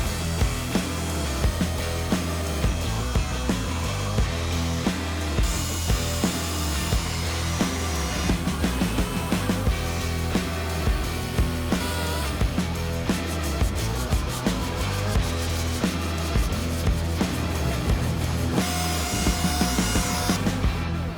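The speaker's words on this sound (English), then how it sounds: "I need to just get them sanded down and get them most of the way level" Sanding of urethane filler on a fender flare, a steady, loud abrasive rasp that runs without a break for about twenty seconds.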